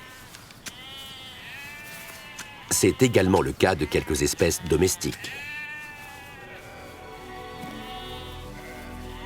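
Wild North Ronaldsay sheep bleat in a rapid, wavering burst of several calls midway, loud and close, while a voice talks over the rest.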